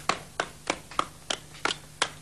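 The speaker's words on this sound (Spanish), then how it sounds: "quisiera que la recibamos todas con un fuerte aplauso" Seven separate, evenly spaced hand claps ring out, close and crisp, with no crowd roar behind them, as a guest is welcomed on a TV programme.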